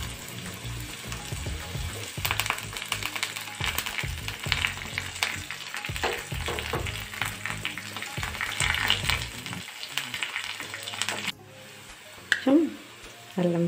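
Onion petals sizzle and fry in a pan for a Telugu curry, with crackling sizzle and frequent stirring clatters close up, then the sound thins near the end as something else is handled.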